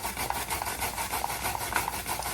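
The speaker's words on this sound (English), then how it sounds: "And grind daikon, maybe 4 tablespoons, 5 tablespoons." Daikon radish is rubbed quickly against a grater container in a kitchen, making a close, steady rasping in fast regular strokes with no talk.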